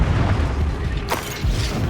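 An Expulso blasting spell in Hogwarts Legacy goes off as a single sudden booming burst partway through, over a constant rumbling game background.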